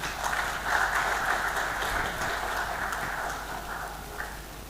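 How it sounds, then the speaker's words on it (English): An audience at an economic report launch in Malawi gives a round of applause, a soft, even patter of many hands at a distance that fades slightly toward the end. "Can we give them a round of applause again?"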